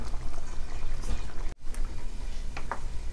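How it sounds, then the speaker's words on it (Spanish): Water pours into a blender in a short, steady splashing stream, briefly broken midway, then continues with light trickling and gurgling close by. "Voy a echar poquitita agua a la licuadora."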